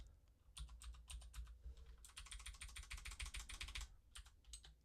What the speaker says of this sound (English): I love those loud clicks off my keyboard.